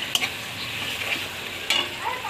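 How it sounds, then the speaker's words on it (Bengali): Whole cumin seeds frying and being stirred in a pan: a steady close sizzle with a couple of brief scraping stirs, no talk. "পরিমাণ মতন গোটা জিরে দিচ্ছি। আচ্ছা, দিয়ে নাড়াচাড়া করছি।"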